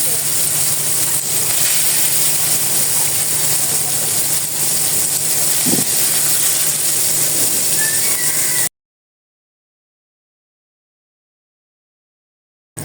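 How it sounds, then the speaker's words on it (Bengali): Leafy greens frying in very hot oil in a home kitchen, a continuous loud hiss and sizzle that runs for several seconds and then cuts off into silence. "এই তেলে আমি এখন শাকগুলো ভাজি করে নিব।"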